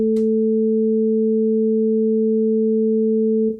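Two pure, steady sine tones at 220 Hz and 440 Hz, an octave apart, sound together, loud and unwavering for a few seconds before cutting off.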